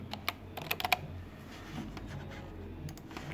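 A short cluster of close computer keyboard keystrokes during a Photoshop session, followed by a quiet stretch with faint room noise and a couple of light clicks near the end.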